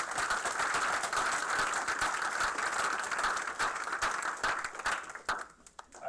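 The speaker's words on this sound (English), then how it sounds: "I'll give you a round of applause." An audience at a veterinary school white coat ceremony applauds, a dense, steady round of clapping that fills the hall before tapering off into scattered claps.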